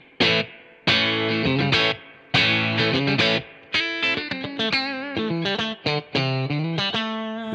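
An electric guitar with Bognar pickups in a twangy Telecaster-style middle position plays clean, bright plucked notes and chords, loud and close, with short phrases separated by brief pauses.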